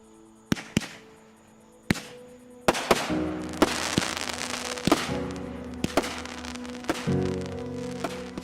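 Fireworks crack and pop repeatedly at irregular intervals, sharp bangs over a crackling, rumbling backdrop, fairly close and loud.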